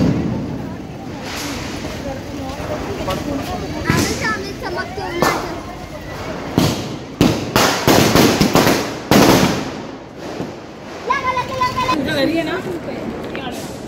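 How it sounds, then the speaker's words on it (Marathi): Diwali firecrackers bursting around a street scene, with repeated sharp cracks and bangs at irregular intervals and clusters of rapid pops in the middle, while people chatter and talk throughout. "आमचे फटाके फोडून झालेत"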